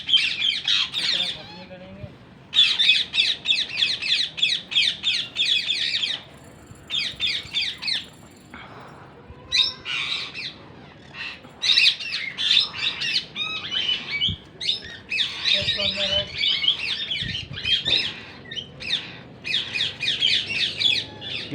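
Wild Indian Ringneck parrots squawk in repeated harsh, shrill bursts, loud and close, in clustered volleys with brief gaps, while a voice talks intermittently underneath.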